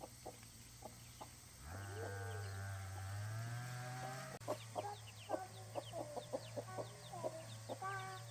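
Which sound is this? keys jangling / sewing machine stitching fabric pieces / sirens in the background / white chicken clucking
white chicken clucking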